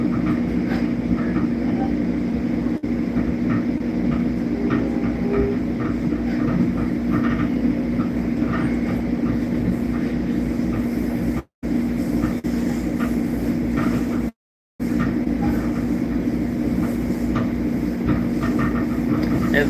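A train ride toward Penn Station, a steady loud rumble and hum of the rail car filling the cabin with a constant low drone, broken by two brief dropouts of silence.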